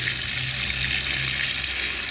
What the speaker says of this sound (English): I'm going to now turn this tap on.